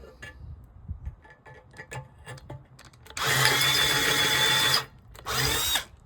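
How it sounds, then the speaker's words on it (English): After some light clicks and handling noises, a power drill whirs loudly for about a second and a half drilling a pilot hole during a mailbox door repair, stops briefly, then spins again. "Once you drill your pilot hole"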